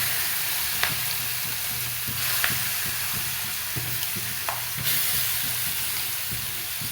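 Turmeric and ground amla fry in a kadai with a steady hissing sizzle, punctuated by soft, regular taps and scrapes of stirring, and a low hum underneath.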